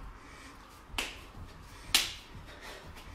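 Two sharp hand claps about a second apart during a kids' clap jacks workout, fairly close and distinct over a faint background hiss.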